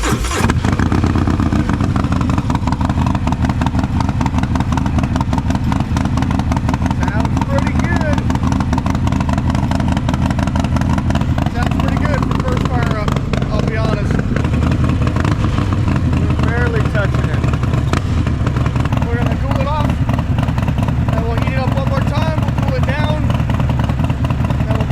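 A Harley motorcycle engine built to make over 150 horsepower cold-starts and runs with a loud, continuous rumbling idle and clattering mechanical noise, rising in a few revs, close to the microphone, with a voice talking over it at times.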